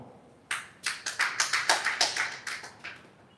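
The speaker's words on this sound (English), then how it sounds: "Let's clap for her." Small audience applause during a live wellness session: roughly a dozen quick, separate claps that rise to a steady patter, then thin out and stop. There is no talking.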